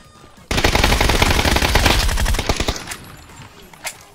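Sustained automatic gunfire in PUBG, loud and close, rattling steadily for about two seconds before it tapers into scattered shots and quiet game ambience.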